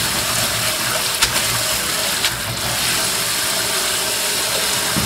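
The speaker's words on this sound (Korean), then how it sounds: "그러니까 지금 다 헹궈 주셔야 돼요." Dried sweet potato stems being rinsed in water, giving a steady loud gush of running, splashing water with a faint mechanical hum beneath and an occasional clink.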